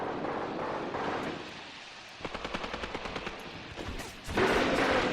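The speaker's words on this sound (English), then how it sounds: "Those machine guns are just brutal." Machine guns rattle in a battalion-wide battle in a Graviteam wartime strategy game, with a steady burst of rapid shots, then heavier, louder fire near the end over a windy rumble.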